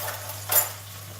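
A spoon clinks once against a pan while a soy sauce mixture with a little added sugar is stirred for tofu and pak choy, a single short metallic tap over a low steady hum.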